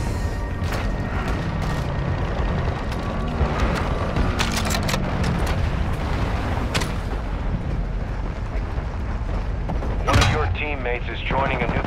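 Sustained gunfire and booming explosions from a Call of Duty Modern Warfare 2 (2022) DMZ match in Al Mazrah, a dense, continuous battle din with sharp bursts throughout and a heavier blast near the end.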